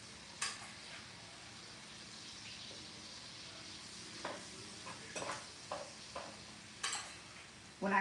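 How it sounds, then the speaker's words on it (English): Kebab pieces go into melted butter in a skillet on a lowered heat, producing a soft steady sizzle with a few stirring scrapes and light clinks of a utensil against the pan, fairly quiet and close, with no talking. "I'm just gonna put this in to the melted butter"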